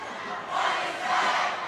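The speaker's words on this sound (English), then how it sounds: "MDI crowd waking up, Coach." A home crowd at a high school boys' basketball game at MDI cheers and roars, swelling in two surges over a constant murmur of a packed gym, with no clear speech.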